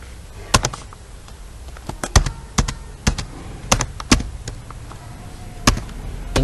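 Keystrokes on a computer keyboard while typing a story into MS Word, heard as irregular, sharp, close clicks spaced a fraction of a second apart, alone with no talk.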